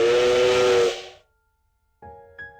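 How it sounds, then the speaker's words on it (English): A train whistle blowing: a loud, hissing steam-like blast that fades out after about a second, then silence before a fainter, higher tonal whistle returns briefly, with no voices present. "The sound of the Densha whistle approaches."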